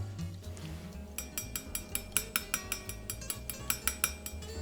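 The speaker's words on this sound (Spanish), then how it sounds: "Pero les debe quedar una capa de vidrio de azúcar encima que es crujientísima." A spoon taps the hard caramelized sugar crust on a pumpkin brûlée pie, a rapid series of about a dozen sharp, glassy clicks in a quick steady rhythm, close and crisp, with no talk.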